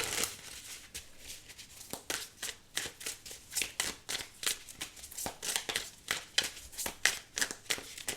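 Tarot cards riffled and slapped down in a rapid run of crisp papery flicks, close and fairly quiet, with no voice over them.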